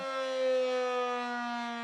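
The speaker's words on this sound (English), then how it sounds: "the siren still sounds at noon and 6 p.m." A sustained, rich-toned siren on an old city water tower in Osseo wails steadily, slightly swelling in loudness, heard alone without voices.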